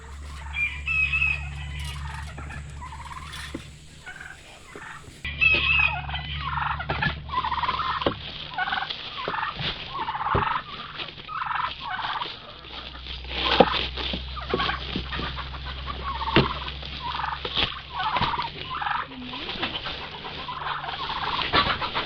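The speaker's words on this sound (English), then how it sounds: "It's them turkeys talking." Turkeys gobble again and again in rapid warbling bursts, several birds calling over each other fairly close, with a low rumbling hum underneath and no talking.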